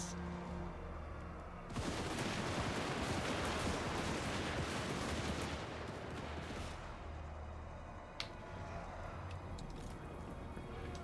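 Dwarf guns fire in Total War: Warhammer 2, a dense, rolling crackle of volleys that erupts suddenly and continues over a steady battle din, with a sharp crack near the end.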